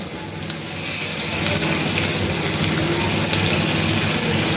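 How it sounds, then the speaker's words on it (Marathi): Halwa fish frying in oil in a pan, a steady loud sizzle that swells slightly and continues without pause, with no talking. "दुसऱ्या साईडने पण आपण दोन तीन मिनटं चांगलं फ्राय करून घेऊया"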